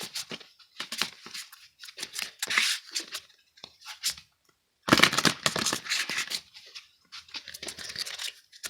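A tarot card deck being shuffled by hand, with close, crisp riffles and papery flutters in bursts separated by brief pauses.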